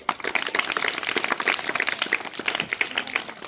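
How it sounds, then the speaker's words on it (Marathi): Audience applause at a school class assembly, a steady dense patter of many hands clapping together for a few seconds, fairly close and loud with no talking over it. "कुठे आहे टाळ्यांचा आवाज?"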